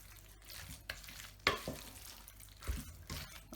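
Pie filling with eggs, salt and grated nutmeg being mixed in a bowl for a torta pasqualina: soft scraping and stirring strokes, a few sharper knocks, close and fairly quiet with no voices.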